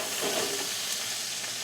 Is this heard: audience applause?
no